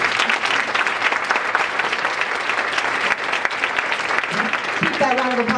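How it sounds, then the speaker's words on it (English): An audience applauds for a head coach at an indoor event, steady dense clapping throughout with a voice starting to speak over it near the end. "that round of applause going until she sits down"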